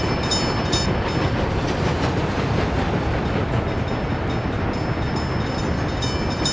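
Trains in the tropical rail-building game Tropic Fever roll past with steady, dense rumbling and rhythmic clickety-clack of wheels on track, continuous and fairly loud with no talk.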